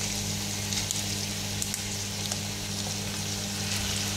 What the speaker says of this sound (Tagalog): Ilalagay na natin, guys, itong ating pork ear.